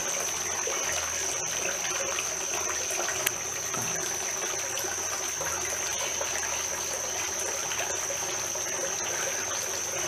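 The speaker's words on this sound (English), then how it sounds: "it's just the fountain's still going" A garden water fountain trickles steadily and close by, a continuous soft splash and dribble of water running the whole time with no voices.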